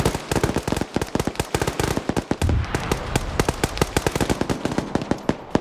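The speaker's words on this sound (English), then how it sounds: "Something blew up over here, a Humvee in the middle of the area." Gunfire and explosions fill a PvP military video game battle, with a rapid string of sharp, loud cracks and pops going off in uneven bursts. A heavier blast lands in the middle as a Humvee blows up.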